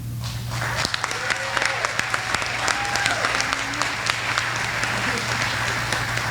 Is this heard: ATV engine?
no